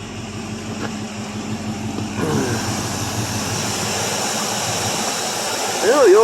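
A 1984 Chevrolet Suburban with its old carburetor runs after a cold start following three years of sitting. The engine gives a steady, close roar that grows louder partway through and swells again at the end.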